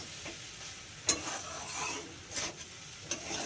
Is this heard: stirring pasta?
yes